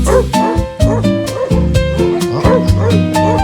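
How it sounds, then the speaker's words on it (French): Several dogs bark and yip close by along a winding rural road, a dense run of sharp, rhythmic barks with whimpers mixed in and a voice faintly beneath. "Tiens, un concert de chien."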